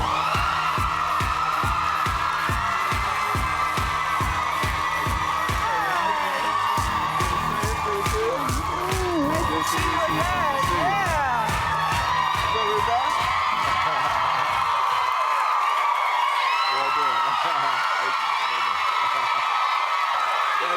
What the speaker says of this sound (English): Great audience, great crowd.